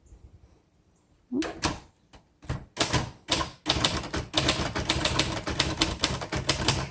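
After a quiet moment, keys of a 1961 Royal Futura 800 manual typewriter strike in quick, irregular bursts, sharp mechanical clacks building into steady typing up close.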